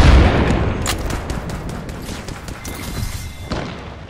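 Continuous rapid gunfire in the video game Apex Legends, a dense loud burst of shots with booming low thuds, steady through the clip with no talking.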